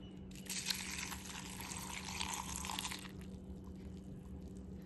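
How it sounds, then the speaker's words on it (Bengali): Milk poured from above onto cornflakes in a bowl for a healthy breakfast makes a soft, steady splashing patter for about three seconds over a low hum, then stops. "কর্নফ্লেক্সটা দিয়ে দিচ্ছি এবার দুধটা ঢেলে দেবো"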